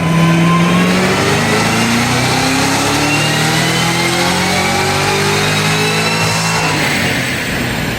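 A supercharged Cadillac CT5-V Blackwing engine revs hard on a dyno during a supercharger lid test, a loud, sustained roar that climbs steadily in pitch through the run and then eases off near the end.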